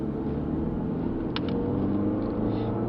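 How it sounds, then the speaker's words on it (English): Road noise of a moving car picked up by a recorder hidden on a person, a steady muffled low rumble with a couple of brief faint clicks, continuous and without talk. "You can hear the road noise on the device."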